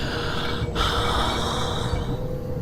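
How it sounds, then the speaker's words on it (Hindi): Heavy, eerie breathing fills a horror story scene, a loud, close, continuous rasping hiss with a brief catch partway through, set over a dark rumbling drone. "सांसों की आवाज आने लगी।"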